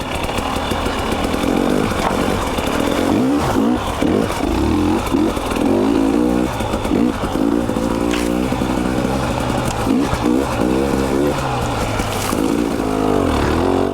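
A 2020 KTM 300 two-stroke dirt bike engine on a trail, loud and close throughout, with continuous revving and throttle blips rising and falling over a steady buzzing drone, with no talk.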